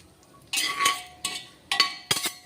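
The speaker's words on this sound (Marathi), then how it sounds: "यामध्ये आपल्याला काजू पण तसेच टाकून घ्यायचे असंच गुलाबी रंगावर आपल्याला परतून घ्यायचे" Cashews roast in a pan while a spatula stirs them, giving four short bursts of scraping and clinking against the metal, separated by near silence, with a faint sizzle.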